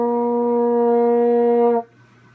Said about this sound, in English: the first note you want to know is F, and that's first valve.